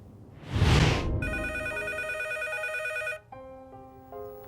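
Telephone bell rings loudly and steadily for about two seconds after a burst of noise, then the handset is picked up, followed by a softer electronic tone pattern.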